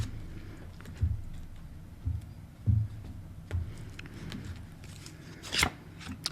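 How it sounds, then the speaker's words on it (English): Tarot cards are riffled and shuffled in a few separate bursts, soft flutters and taps with brief quiet gaps between them. "Let's do a couple more shuffles on that one."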